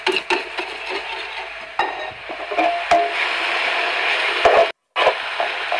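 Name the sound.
stirring tart filling with wooden spoon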